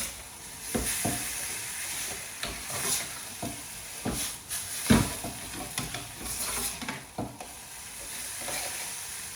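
Watered-down tomato paste is stirred into a pan of chicken jalfrezi, with a steady sizzle under repeated scraping strokes of a spoon against the pan, close and moderately loud.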